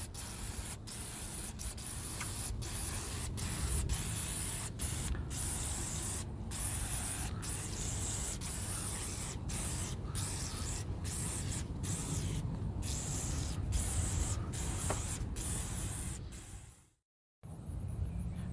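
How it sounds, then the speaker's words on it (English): Long continuous hiss of an aerosol silicone spray on an outboard boat engine, steady for most of the time with brief breaks, then cutting off abruptly near the end. "Now I'm going to take my silicone spray and spray on the engine"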